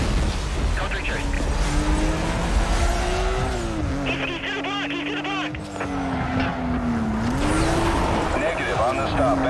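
Car in Need for Speed Most Wanted driving on bare rims while evading police, engine drone steady and loud with scraping and squealing over it and radio-style voices talking throughout.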